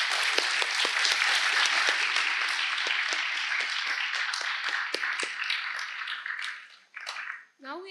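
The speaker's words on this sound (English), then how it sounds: "Let's give a big round of applause to all the performers here." Audience applause for performers at a school-style event, a dense sustained wash of clapping for about seven seconds before it fades out, followed by a short voice at the end.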